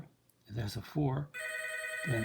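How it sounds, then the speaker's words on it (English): A telephone rings with a steady, sustained electronic bell tone that cuts in after a man's speech during a math lesson on recursive and explicit sequences, then continues as he speaks again over it. "That's the phone rang, but I disconnected it."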